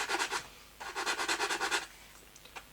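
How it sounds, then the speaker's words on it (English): Rhythmic rasping strokes of a wide sanding stick on a flat surface of a Revell 1/32 Messerschmitt Bf110 C-2 plastic model kit, a quick burst then a longer run of even back-and-forth passes, up close. "when you're filing a flat surface, try to use quite a large,"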